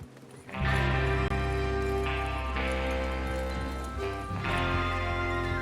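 Horses ridden in Red Dead Redemption 2 sound as a dense, steady run of hoof clip-clops with rumbling movement, loud and sustained across the whole stretch, with music-like tonal layers underneath.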